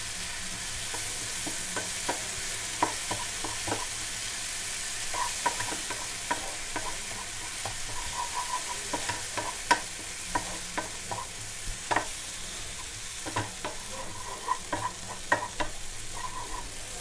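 Onion with ginger and garlic paste frying in a pan over a medium flame, a steady background sizzle broken by repeated scraping stirs of a spoon, close by with no talking.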